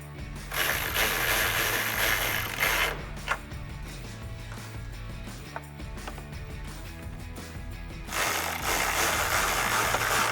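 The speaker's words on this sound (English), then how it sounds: "Again, this is using an 11mm socket." A hand ratchet fitted with an 11mm socket loosens fasteners on a 2005-2009 Mustang tail light, giving rapid close-up clicking bursts at the start and end with quieter scraping and handling sounds between them.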